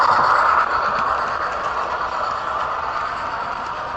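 A model train locomotive hauling red ore wagons on a loft layout gives a steady whirring motor hum with faint rail rumble, running continuously at close range with no voices.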